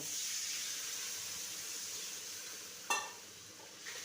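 Steady hiss of hot liquid sizzling in a pan as a little water is added to frying spices, with a brief louder burst and splash partway through, then settling back to a constant fizz.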